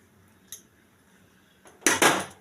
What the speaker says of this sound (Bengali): এবার আমি কুকারের মধ্যে বাটিটা বসিয়ে দিচ্ছি